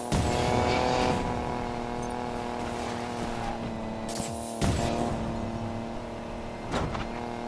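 Race cars from Need for Speed Payback roar past in a dense, continuous engine drone with sharp gear-shift surges and a brief tire squeal, loud and close throughout.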